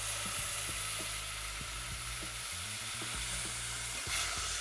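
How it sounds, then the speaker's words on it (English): Coconut milk being stirred into a sizzling flour and curry powder mixture in a hot pan, with a continuous close sizzle and repeated spoon scrapes at an uneven rhythm. "And now we want to incorporate the coconut milk really well so it gets all of that dry from the flour and the curry powder."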